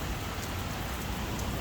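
Steady rain pours down outdoors, a dense continuous hiss of drops on surfaces close by, with no voices.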